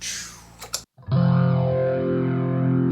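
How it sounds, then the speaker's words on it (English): A guitar runs through a pedal effect that lowers the volume and adds a lo-fi, distorted colour, heard as a brief noisy burst, a short gap, then a steady sustained chord held for about two seconds. "It's basically like a lower in volume, but it also makes it lo-fi."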